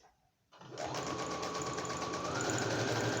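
A sewing machine stitching a plastic notebook cover starts up after a brief quiet moment, then runs in a fast, steady mechanical whir that rises slightly in pitch and continues loud and close to the end.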